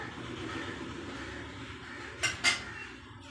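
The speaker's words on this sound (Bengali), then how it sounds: "চলো এবার ঢাকা দিয়ে দেবো" Metal lid set onto a cooking pot of meat curry in a home kitchen, two quick close clanks near the end over a low steady background.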